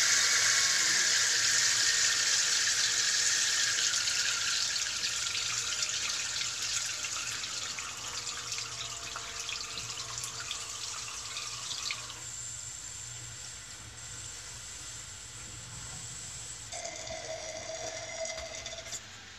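Water rushes steadily through the pipes of a micro hydro installation running at full power, a loud continuous broadband roar that eases slightly and changes tone partway through, with no voices.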